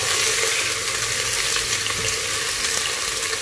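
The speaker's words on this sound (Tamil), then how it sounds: "அதோட நம்ம ஸ்லைஸ் பண்ணி வச்சுக்க வெங்காயத்தை சேர்த்துக்கலாம்" Sliced onions frying in hot oil with cinnamon sticks, a steady, dense sizzle close by that holds level throughout with faint stirring scrapes and no voices.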